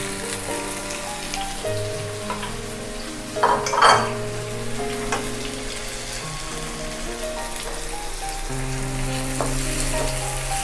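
Chopped tomatoes and onions sizzle steadily in a pan over reduced flame while red pasta sauce is prepared, with a brief louder clatter of stirring partway through; background music plays throughout.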